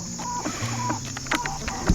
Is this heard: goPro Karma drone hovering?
no